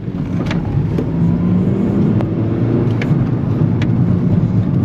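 An 8th gen Honda Civic Si with a K&N drop-in filter idles with a steady, deep engine drone, its revs hanging without clear throttle blips, heard close up.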